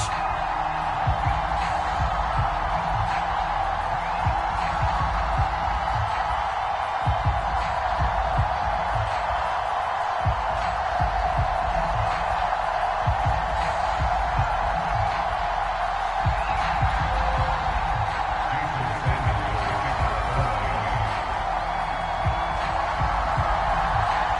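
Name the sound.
stadium home crowd cheering in EA Sports NFL video game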